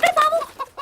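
A hen gives a quick run of several close, clear clucks, bright and choppy, with short gaps between the notes.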